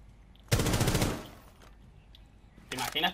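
Automatic gunfire in Rainbow Six Siege, a loud rapid burst of shots lasting about half a second, then quiet, then a second shorter burst near the end, with faint talk in the background.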